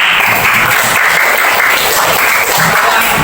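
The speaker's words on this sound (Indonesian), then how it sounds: "Boleh, tepuk tangan." Loud, dense applause from a classroom of students, a continuous wash of many overlapping claps sustained evenly from start to finish.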